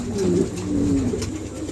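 Roman galla pigeons at a pigeon seller's coo loudly and close by, with a couple of drawn-out throaty coos over a short stretch and no voices.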